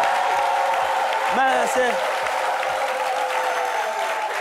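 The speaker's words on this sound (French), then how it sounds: "applaudissements également pour notre docteur en humour" A studio audience on a French midday talk show applauds steadily, a dense wash of clapping that fills the short moment while a host speaks over it.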